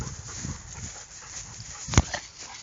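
A dog outdoors gives a single short sharp bark or yelp near the two-second mark, with soft faint rustling and movement before and after it.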